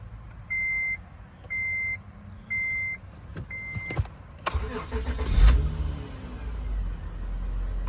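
A 2006 Acura TL's engine cranks and catches after four short, evenly spaced chime beeps, settling into a steady idle close by.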